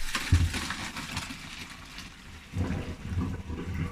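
Hot pasta water pours from a pot through a colander into a sink, a rushing gush that swells, eases, then surges again over a few seconds.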